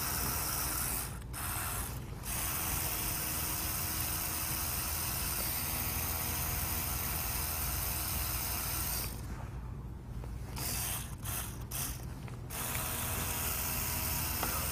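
A tattoo machine fitted with a fine needle runs steadily with a loud, constant mechanical buzz throughout, briefly interrupted by a few short gaps where the motor stops and restarts, with no talk over it.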